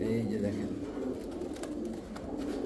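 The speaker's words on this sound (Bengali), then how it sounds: "টেডি কবুতর রানিং একটা পেয়ার।" Teddy pigeons, a running pair, cooing in soft low repeated calls while someone talks over them throughout.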